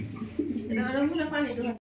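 Low, throaty cooing from a pair of homing pigeons close by, a steady rolling coo lasting a couple of seconds before cutting off.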